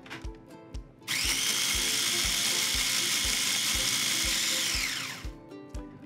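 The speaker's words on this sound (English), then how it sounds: "we're gonna begin by processing that to grind all those dry herbs" Food processor grinding dried fennel seed, rosemary and salt, a loud steady whir with a harsh gritty edge that runs about four seconds, preceded and followed by softer rhythmic clicking.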